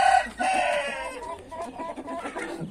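Two Índio roosters crow loudly nearby on a hot day, one call after another, mixed with short clucks and soft background noise.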